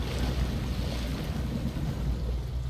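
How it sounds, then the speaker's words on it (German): In the video game SnowRunner a truck drives through a water hole, giving a continuous sloshing, rushing wash of water over a low engine rumble, steady and fairly close with no speech. "Durchs Wasserloch fahren."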